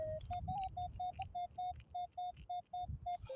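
A metal detector sweeping a watermelon field gives a steady run of short, evenly spaced electronic signal tones, about a dozen clear beeps in quick succession over a low rumbling background, with no talking.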